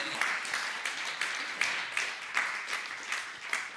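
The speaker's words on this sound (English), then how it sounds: "applause." Applause from a conference audience at the close of a technical talk, a steady wash of many hands clapping at moderate distance with a few louder bursts, no voices over it.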